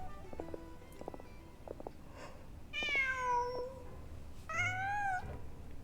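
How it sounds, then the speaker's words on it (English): A cat in Genshin Impact meows twice, each a clear rising-and-falling call, preceded by a few soft clicks and footstep-like taps against quiet game ambience. "Huh. Just a cat."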